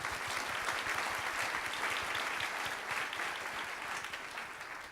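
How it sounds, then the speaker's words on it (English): Audience applause at a school spring dinner, sustained clapping from a room of people at steady strength for the whole stretch, with no voices standing out. "can we please give him a round of applause?"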